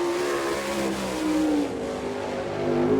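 A sprint car laps a dirt oval at an All Star Circuit of Champions race in Abbottstown, Pennsylvania, its engine droning loud and steady with pitch shifting as it works around the track.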